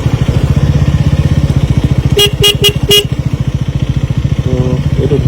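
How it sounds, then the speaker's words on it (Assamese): A KTM Duke motorcycle being ridden, its engine throbbing in a rapid, even pulse close by, interrupted midway by four short vehicle horn toots before the engine note carries on. "আৰু বাইকৰ চাউণ্ডো আহিছে"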